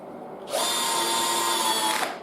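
An impact driver spins a screw in a garage storage build, a loud continuous buzzing whir for about a second and a half that starts abruptly and stops cleanly.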